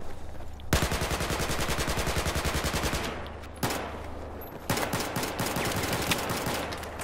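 Rapid automatic gunfire in the Battlefield 4 video game on PS4, with long dense bursts of sharp shots and brief gaps between them, fairly quiet overall and without talk.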